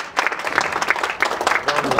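A small group at a youth under-18 football tournament in Kaloum, Conakry, gives close, uneven applause with distinct individual claps, and voices can be heard mixed in.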